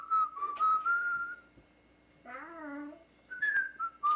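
A person whistles a tune in clear, bright phrases, with a brief wavering, buzzy hum in the middle before the whistled melody picks up again.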